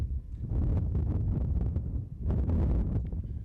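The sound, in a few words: strong wind at outdoor polo match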